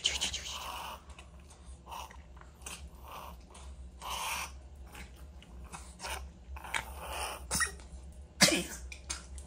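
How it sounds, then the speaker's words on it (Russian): A small chihuahua dog coughs repeatedly indoors, a series of short, sharp hacking bursts with pauses between them, fairly faint and close, with a person's voice briefly in the background. "Да, откашляйся."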